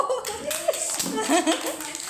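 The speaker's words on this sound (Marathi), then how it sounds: "अरे वा, टाळी बजाव." Small children at an anganwadi preschool clap their hands in short, uneven bursts during a playtime game, with an adult and children talking and laughing over the clapping.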